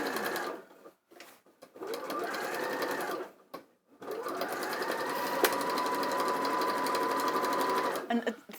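A sewing machine stitches a fabric bag in several short runs and one long continuous run, a steady close whirring broken by brief pauses as the work is repositioned.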